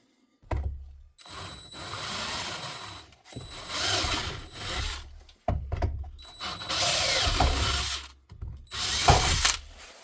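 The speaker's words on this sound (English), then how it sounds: "we'll have to drill those out with a 1/4 inch drill bit" A power drill with a 1/4 inch bit whirs in several loud, sustained bursts, stopping and starting as it bores holes close by during a Polaris General windshield and wiper install.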